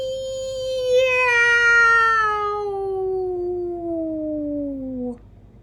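A long, drawn-out meow slides slowly downward in pitch over several seconds before breaking off abruptly, with a faint low hum underneath.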